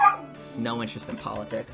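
A pet dog gives a couple of short barks and yips close by, mixed in with a person talking over them.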